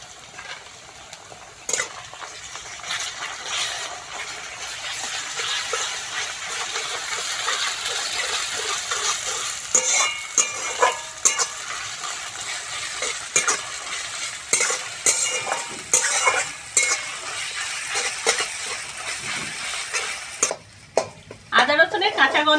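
Ginger and garlic frying for chicken pulao, stirred in the pan, with a steady close sizzle and repeated scrapes and clinks of a utensil throughout.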